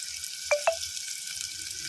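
Steady sizzle of finely chopped onions and green chillies frying in hot oil for mutton keema, a constant bright hiss with two faint clinks near the start and no talking.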